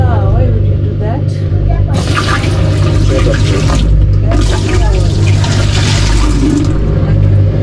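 Water runs and splashes steadily into a hand-washing basin for laundry, with a broad rushing wash that swells and eases, and a voice talking over it now and then.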